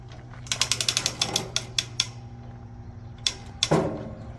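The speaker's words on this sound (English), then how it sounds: "I forgot my ratchet, so I'm using my 1/4-inch drive breaker bar" Ratcheting clicks from a 1/4-inch drive breaker bar working a bolt loose come in a rapid run of sharp, close ticks, then a pause and a couple more clicks with a heavier clunk near the end.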